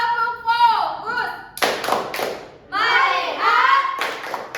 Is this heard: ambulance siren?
no